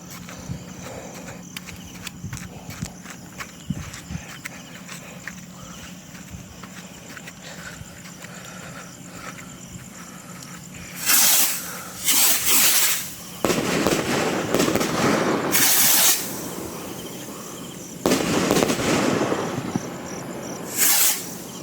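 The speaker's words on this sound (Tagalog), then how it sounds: "Iglet by Eagle Fireworks." An Iglet firework by Eagle Fireworks goes off outdoors: a low hissing fizz first, then several loud crackling bursts in clusters, each sharp and close, with short gaps between them.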